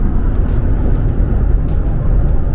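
A car engine runs hard at speed in a high gear, giving a loud, steady, close rumble with little change in pitch and no distinct shifts.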